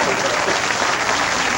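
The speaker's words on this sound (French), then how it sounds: "Il mérite qu'on applaudisse" Studio audience applause at a French television show, a brief, steady wash of many hands clapping at moderate loudness with no gaps.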